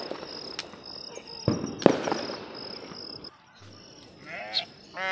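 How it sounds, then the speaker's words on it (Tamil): A mixed flock of goats and sheep, including young ones, moves and feeds outdoors. Scattered crackles and rustling fill most of the stretch, then a few wavering bleats ring out close by near the end. "இதில் செம்மறி ஆடுகளுமே கலந்துருந்தது"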